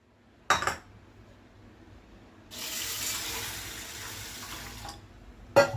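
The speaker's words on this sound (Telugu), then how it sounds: "ఒకసారి శుభ్రం కడిగేసి తగినంత నీళ్ళు పోసుకొని నానబెట్టుకోవాలన్నమాట" A faucet runs water into a container of lentils for a few seconds as they are washed, framed by sharp clinks of a metal pot or utensil before and after.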